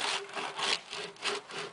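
Knife saws through the crisp crust of warm, freshly baked rustic country bread in several quick back-and-forth strokes, each a close, dry, scratchy rasp, with no talking.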